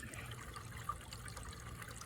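Water running through an inground pool cleaner, a faint, steady trickle and gurgle with a soft low rumble underneath.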